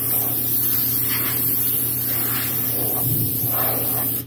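Steady airbrush hiss spraying thin paint, a continuous fine spray of air running nearly unbroken throughout, with a low hum underneath.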